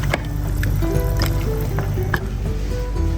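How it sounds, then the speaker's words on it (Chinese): Plain water is poured into a pot of spicy chicken feet already simmering with dark soy, oyster sauce and beer, giving a steady close liquid gush mixed with bubbling and light sizzle. "再来点清水"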